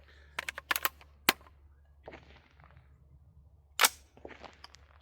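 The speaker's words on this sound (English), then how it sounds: "I'm going to shoot it with the muzzle brake that came on the Daniel Defense upper" Rapid AR rifle shots fired with the factory Daniel Defense muzzle brake, a quick burst of sharp cracks followed by a few spaced single reports, outdoors with a low background hum.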